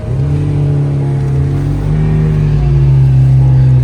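A towed car on the steep mountain road up toward Babusar Top revs hard and steadily, its loud engine drone rising in pitch as it strains uphill, close and alone without talk.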